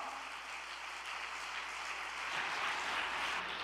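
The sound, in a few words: audience applause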